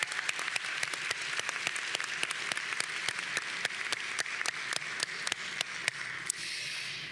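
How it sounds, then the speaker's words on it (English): Graduates and audience applaud at a spring school of social work graduation ceremony, a steady wash of crowd clapping with distinct sharp claps standing out in a regular pattern throughout, tapering slightly at the very end. "let's give a round of applause for all of those in the audience here to support you."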